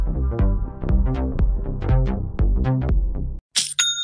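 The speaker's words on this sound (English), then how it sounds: "That's the sound of another sale on Shopify" Shopify's sale notification plays as a quick, bright chime melody of plucked tones lasting about three seconds, ending in a short sparkling coin-like ring after a brief gap.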